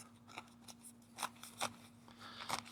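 A DC Blades Ceto clip-point folding knife slices through thick rubber-lined canvas in several short, crisp cutting strokes, quiet and close, with a faint steady hum in the background.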